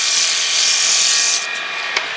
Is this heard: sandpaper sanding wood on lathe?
yes